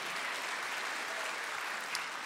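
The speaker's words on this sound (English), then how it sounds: "give yourselves a round of applause." Steady audience applause at a live songs-and-stories concert, a soft, even wash of many hands clapping at a moderate distance, with no voices.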